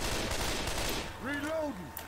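Gunfire in the zombie shooter Left 4 Dead 2, a short burst of sharp rapid shots followed by a brief tonal game sound, loud and close in the mix.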